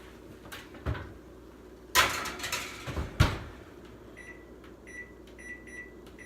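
An oven door clanks open and shut at home with a couple of bumps and knocks, followed by a run of short electronic beeps as a timer is set, over a low background hum.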